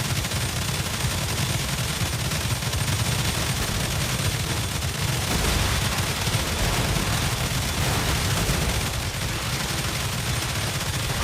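Dense gunfire from automated guns during a raid in the video game Star Rupture, a continuous loud roar of overlapping shots and blasts that persists without pause.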